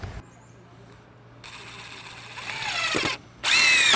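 A power drill whirs up to speed and grinds steadily as it bores holes in structural lumber, briefly stops, then roars back louder and higher-pitched at close range.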